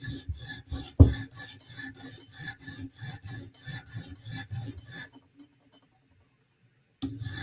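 A blade is sharpened by hand on a 150 grit sharpening stone, giving a rhythmic series of close, raspy strokes about three per second, with one sharp knock early on, then a few seconds of silence before strokes resume.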